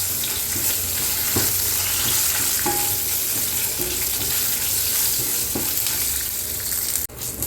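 Coriander, fennel and dried red chilies dry-roast in a pan with a continuous dry crackling hiss, a few light knocks of a spoon and a sharp clatter near the end; no voices.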